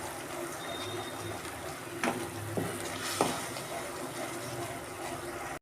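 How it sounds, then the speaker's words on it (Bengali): Mustard spice paste is stirred and sautéed in a pan for Bengali mustard hilsa fish, giving a low steady sizzle with a few scraping stirs standing out over the frying hiss. "মশলাটাকে একটু কষে নিতে হবে"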